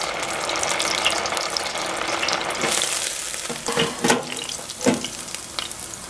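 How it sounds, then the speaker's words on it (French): Steady sizzling and crackling of rice and mozzarella croquettes frying in hot oil, close up, with a few louder bubbling bursts toward the end. "Et on va faire la friture dans une huile bien chaude."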